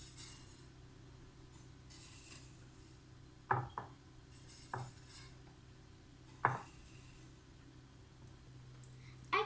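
Roasted kadayıf is set onto a plate with a few sharp clinks and light taps of utensils against dishware, sparse and close, over a quiet room hum.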